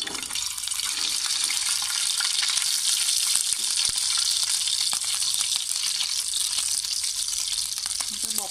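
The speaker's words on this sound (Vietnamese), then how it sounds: "Giờ bỏ tôm thịt cho mấy bạn mình chiên bánh nha." Bánh xèo pancake with shrimp and pork frying in a hot pan, a loud, continuous close sizzle and crackle that runs steadily throughout with no talking.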